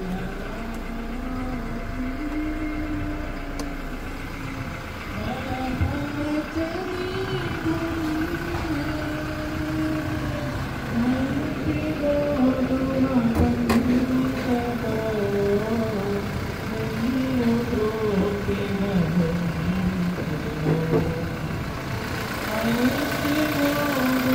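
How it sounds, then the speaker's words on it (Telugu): A 2016 Toyota Innova Crysta 2.4 diesel idles with the bonnet open, its steady, close engine drone and faint ticking running throughout while someone talks over it. "ఒకసారి బానెట్ కూడా పిక్ చేసి ఇంజన్ క్వాలిటీ, ఇంజన్ బీటింగ్ అనేది మీకు చూపిస్తాను"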